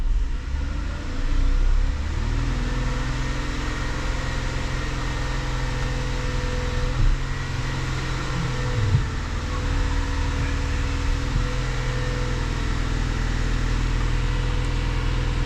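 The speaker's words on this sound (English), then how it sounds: "Just raise the RPM here." A 2008 Ford Taurus engine with high steering effort held at raised RPM, a steady close mechanical drone with whining fan-like hum, continuous and loud throughout with no talk.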